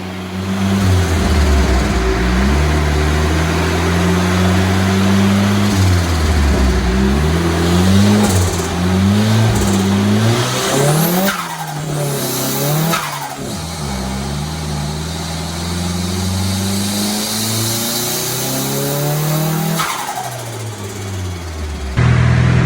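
A tuned Nissan Silvia S14 engine running on E85 revs hard and loud nearby while driving, pitch climbing and dropping through repeated acceleration and gear changes, with a throaty tuned exhaust note and no talking.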